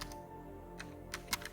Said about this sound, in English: So let me first type a title.